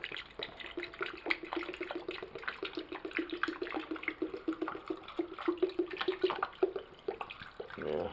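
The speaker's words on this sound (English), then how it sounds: "Pour it in." Liquid from a gallon jug poured steadily into a container while preparing a European mount deer skull, a continuous trickling, splashing flow lasting several seconds, close by with no talk.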